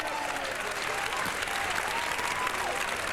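Crowd applause and cheering rises for a strong defensive play at a 1991 open-division ultimate frisbee world championship match, a steady, dense wash of clapping that holds through the whole moment.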